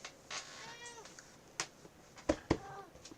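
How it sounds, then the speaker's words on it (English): A domestic cat meows indoors, fairly faint, with a few short cries and soft thumps in a quiet room. "See, the cat's going to be, sitting here for a minute."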